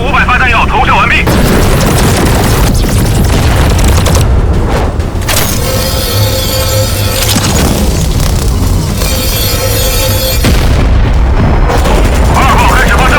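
An autocannon in an animated sci-fi battle series fires special shells fitted with three-stage boosters, a loud, sustained roar of rapid bursts and booms that surges and drops in waves, with a voice speaking over parts of it.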